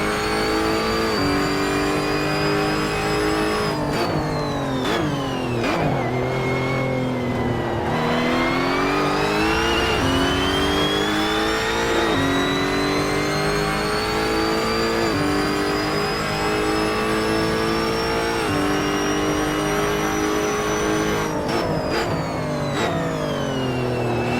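A Lotus race car engine in Assetto Corsa revs hard and continuously, pitch climbing through the gears with sharp drops at each upshift and brief lifts, loud and close with no talking.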